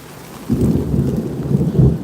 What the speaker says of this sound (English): It's raining, and I know these peppers loving this right now.